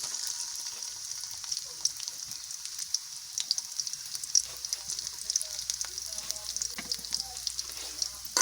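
Chopped onions fry in hot oil for boiled beef bhuna, a steady bright sizzle with soft crackles and occasional stirring taps, close and continuous.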